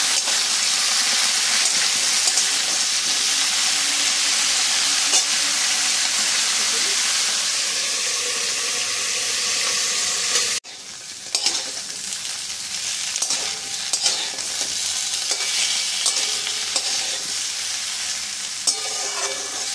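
Mixed vegetables for Bengali shukto fry in a pan with a steady, close sizzle and hiss. After a brief cut, the sizzle continues under scraping, clattering strokes as the vegetables are stirred.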